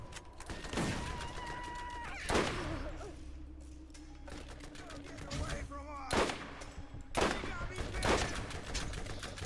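Enemy gunfire in the Borderlands video game: loud broadband bursts of shots and rapid volleys at intervals over a steady game soundscape, with tonal game effects between them.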